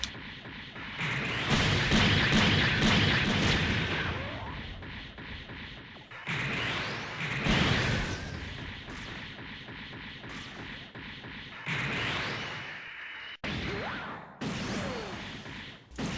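Crossbone Gundam X-1 Skull Heart weapon fire in the SDGO video game, several loud bursts of blasts and whooshing impacts separated by short gaps.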